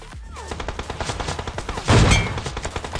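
Gunfire in the BGMI battle royale game around an AWM sniper rifle, with rapid, evenly spaced shots throughout and one heavy, louder blast near the two-second mark.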